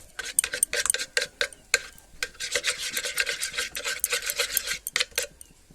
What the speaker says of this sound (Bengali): পরিমাণ মতো লবণ দিয়ে ভালো করে একটু মিশিয়ে নেব ডিমগুলোর সঙ্গে